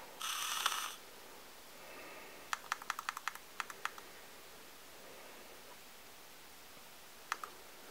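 Button clicks on a Sigelei ZMAX Telescope V5 vape mod with an OLED display: a rapid run of small, crisp clicks, then a few more after a pause. They come close and fairly faint, with a brief rustle at the start.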